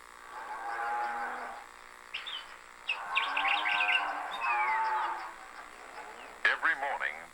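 Cattle low in a Zulu kraal, several drawn-out moos rising and falling close by over about seven seconds, with bird chirps in the background and a sharp sound near the end.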